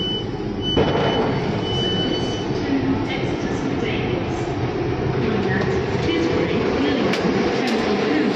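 Steady rumble and rattle from inside a moving UK train carriage bound for Salisbury, with faint beeping tones and muffled voices underneath.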